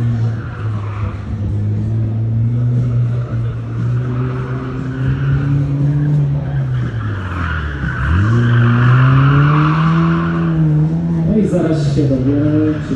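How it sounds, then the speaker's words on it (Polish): A race car at the Puławy Super Sprint, refitted with a newer-generation engine, drones loudly and close, then dips and climbs sharply as it revs and accelerates, with tyre squeal edging in. "Dużo mocy, no to widać, że po prostu kierowcy sprawia radość jeżdżeniu."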